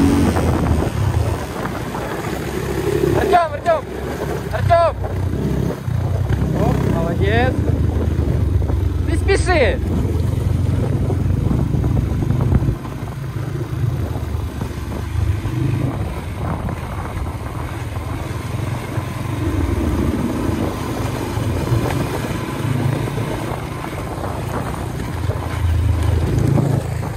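Motorcycles ridden outdoors, including Spark, Loncin, Kovi and Geon bikes, a continuous engine rumble mixed with heavy wind buffeting on the microphone, with someone talking over it and shouting.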